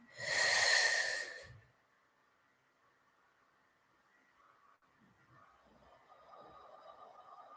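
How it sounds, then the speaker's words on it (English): A deep, loud breath drawn in during a guided group meditation, one long airy inhale of about a second and a half close to the mic, followed by near silence and faint room noise. "Breathe in."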